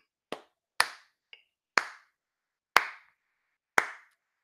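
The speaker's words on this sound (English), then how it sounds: "Slap the legs, clap, right hand, clap, left hand, clap, both hands, clap" Rhythmic sing-along body percussion of leg slaps and hand claps: five sharp, loud hits spaced about a second apart, plus one light tap, each crisp and close with silence between.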